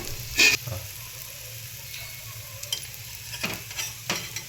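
Bun dosa frying on a pan with oil poured around its edge gives a steady close sizzle, broken by a louder scraping or pouring burst early on and a few brief clinks and scrapes later.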